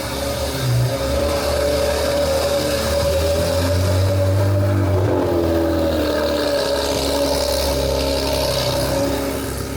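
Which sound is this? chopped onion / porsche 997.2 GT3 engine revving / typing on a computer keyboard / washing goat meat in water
porsche 997.2 GT3 engine revving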